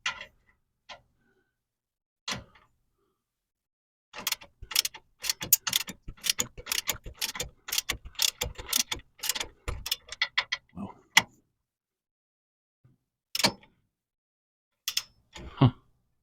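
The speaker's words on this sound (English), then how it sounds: "Now we're going to grab our torque wrench and do our final torques." Rapid clusters of sharp metallic clicks from a torque wrench during final torquing of 19 millimeter recovery point bolts, a dense run in the middle and a few isolated clicks before and after, close and dry with silence between.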